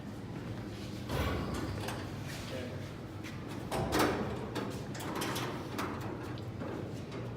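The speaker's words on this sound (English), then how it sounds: "And let's open the doors up here." Doors of a 1954 Ford COE truck swing open, giving two distinct clunks about three seconds apart over steady outdoor background noise.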